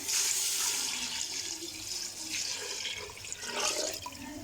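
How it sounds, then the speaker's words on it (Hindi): Water runs and splashes steadily into a pot of goat trotters, a continuous close pour with gurgling and fluctuating hiss. "उसके बाद आपने इसमें पानी डाल देना है"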